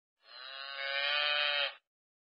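A cow gives one long, steady moo, loud and close, lasting about a second and a half with nothing else audible.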